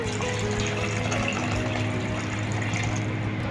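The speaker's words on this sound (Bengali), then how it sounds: "এই অবস্থায় আলুগুলো দিয়ে দেবো। এবং এর সাথে দেবো একটু গরম জল।" Hot water pours into a pan of potatoes cooking in oil, giving a steady, dense rushing and bubbling wash that holds evenly for a few seconds, close and moderately loud, with no voices.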